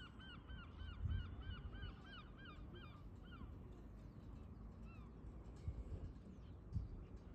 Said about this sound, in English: A pure collage of birds flying together.